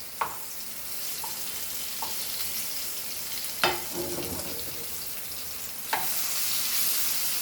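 Bitter gourd (karela) slices frying in a pan, a steady close sizzle with a few sharp clacks and scrapes as the slices are turned, no talk.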